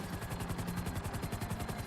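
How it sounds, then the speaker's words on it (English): A Sea Sparrow helicopter in GTA Online: the rotor chops in a fast, even rhythm, a steady pulsing drone that stays close and constant throughout. "it's kind of fun to have a vehicle that's a helicopter that can land on water"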